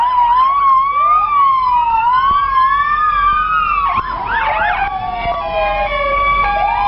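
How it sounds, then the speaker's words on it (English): Fire department trucks rolling through a Christmas parade in Ione sound their sirens, overlapping wailing tones rising and falling loud and close, with a second yelping siren joining midway. "Playing those sirens."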